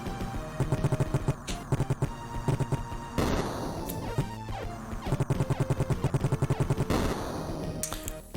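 Rapid bursts of fast bullets from the Steel Seraph video game, sharp machine-gun-like rattles firing in repeated close, loud volleys separated by short pauses.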